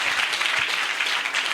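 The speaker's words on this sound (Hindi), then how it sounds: "आओ इहदे लई जोरदार तालियां बजाओ" A church congregation breaks into applause, dense and steady crowd clapping that holds at an even level the whole time with no speech over it.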